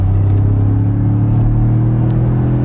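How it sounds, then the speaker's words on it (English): A Ford F-150 with a twin-turbo V6, a steady loud low engine drone and rumble heard from inside the cab as the truck accelerates, constant with no breaks and no talking. "Yes, we're in the Ford today, so let's hit those twin turbos."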